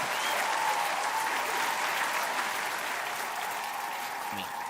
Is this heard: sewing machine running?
no